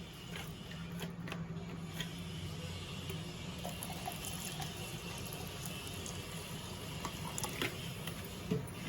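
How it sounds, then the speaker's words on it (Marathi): Cold water pours steadily into a mixer jar holding blended sugarcane pieces for homemade sugarcane juice. The moderately loud, continuous splashing trickle lasts throughout, with a few light clinks and no talking. "आणि आता आपल्याला टाकायचं आहे पाणी"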